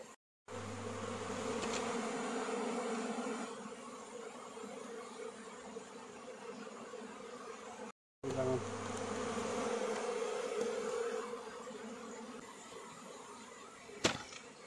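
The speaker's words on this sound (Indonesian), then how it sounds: "Awas, banyak kena lebah bang." Dense, steady buzzing of many bees at a nest in a hollow rubber tree hovers close by, broken by two brief silent gaps, with a sharp knock near the end.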